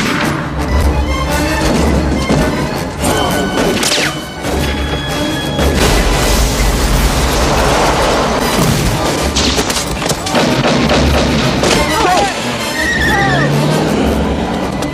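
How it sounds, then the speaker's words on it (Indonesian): A film shootout aboard an airplane, a dense, loud mix of gunshots, thuds, crashes and bangs, layered over dramatic soundtrack music for the whole stretch, with a narrator talking over it. "Charles pun berhasil masuk ke dalam pesawat dan terjadilah aksi tembak-tembakan."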